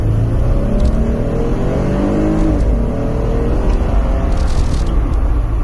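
A Jeep Wrangler JL with its V6 engine accelerates, a loud steady drone with rising harmonic sweeps as the revs climb, heard from inside the cabin and running alone without talk.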